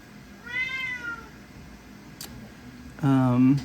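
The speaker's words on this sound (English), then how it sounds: "cat noises for my painting videos" A pet cat meows twice, a thin drawn-out cry first, then a louder, lower second meow, alone in a quiet room during a painting session.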